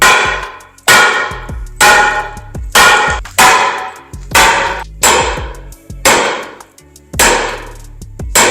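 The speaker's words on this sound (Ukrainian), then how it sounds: "спробуємо розбити скло металевою трубою" A metal pipe strikes tempered glass in eight loud, sharp impacts spaced roughly a second apart, each ringing briefly before fading, with no voices present.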